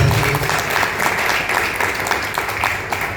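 Audience applause after a chief guest is introduced at a success-story event, dense steady clapping filling the whole stretch, loud and close, with faint voices underneath.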